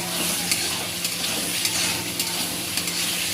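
Fried eggplant pieces go into a pan of simmering hilsa fish curry, giving a steady close sizzle with a few soft stirring scrapes throughout and no talk.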